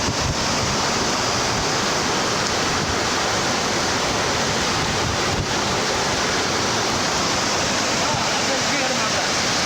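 Loud, steady roar of water rushing and churning through a breached pond after Cyclone Fengal near Vettavalam, Tiruvannamalai district, Tamil Nadu, a continuous broadband torrent with no pauses.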